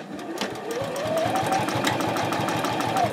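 A sewing machine runs steadily while top stitching a fabric basket, a rapid mechanical chatter of needle strokes with a rising motor whine, close and continuous.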